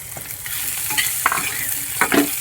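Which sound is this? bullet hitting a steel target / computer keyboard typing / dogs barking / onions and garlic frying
onions and garlic frying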